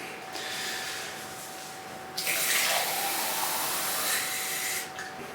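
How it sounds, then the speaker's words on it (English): Water poured into a plastic measuring container marked at 300 milliliters, a brief steady splashing stream that starts suddenly, runs for a few seconds at close range and then stops, with a faint constant hum behind it. "so I will pour in the water and see how much does it take"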